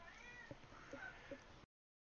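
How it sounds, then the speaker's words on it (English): A cat meows softly several times in the background, faint and muffled, with a brief quiet cry amid low room noise before cutting off. "Not sure if you can hear my cat meowing."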